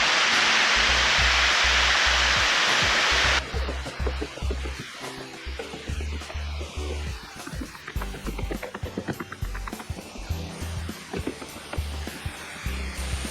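Sticky Waterfall in Chiang Mai, Thailand: a loud, steady broadband rush of falling water for the first few seconds, then rustling, footsteps and thumping handling sounds for the rest.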